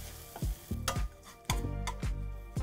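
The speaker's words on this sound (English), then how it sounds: "Just gonna give a stir on the onions. We're getting close, starting to caramelize." Onions are caramelizing in a pan and being stirred, with sharp spatula scrapes at an irregular rhythm over a continuous sizzle.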